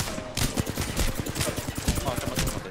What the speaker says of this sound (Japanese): 航空基地で銃声聞こえました